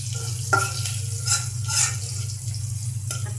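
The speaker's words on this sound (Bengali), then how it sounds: "পেঁয়াজ দিয়ে দিলাম, মশলাটা ভালোভাবে কষাবো।" Onion, green chilli and spices sautéing in a pan make a soft continuous sizzle over a low steady hum, broken by a few light scraping stirs.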